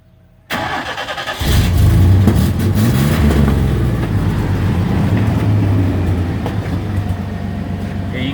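A Chevy truck engine cranks briefly, then catches and fires up into a loud, rough, throaty run with revving that settles into a steady close roar, no talk over it.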